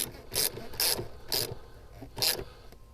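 A ratchet tightens a spark plug in the 4.0 engine of a 2006-2010 Ford Explorer XLT, with four short, rasping clicking strokes at close range separated by brief pauses, with no talk.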